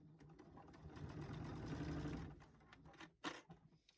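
Sewing machine stitching fabric for a tote bag at a quarter-inch seam and 2.5 stitch length, a quiet, steady mechanical whirring run of about two seconds, then a few soft clicks and handling sounds.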